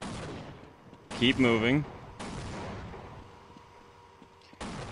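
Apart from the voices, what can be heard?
gunfire in Half-Life video game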